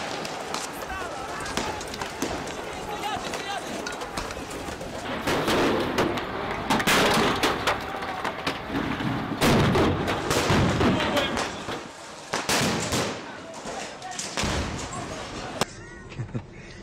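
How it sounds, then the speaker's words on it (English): Guns fire at a shooting range in Ukraine, with sharp reports cracking repeatedly over dense background noise and voices. "Shemesh, we are going to shoot the guns."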